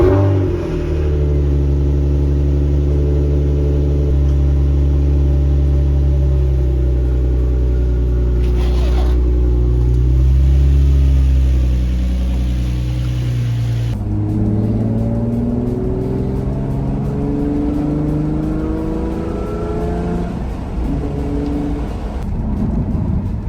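A Nissan 350Z drives past with a deep, loud engine rumble, holding steady before the revs change and climb in a series of accelerating surges.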